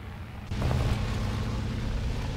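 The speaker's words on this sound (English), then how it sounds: "Hang on, our engine's about to turn on again." A vehicle engine in a video game kicks on abruptly, shifting from a quiet hum into a loud, steady low rumble that continues to the end.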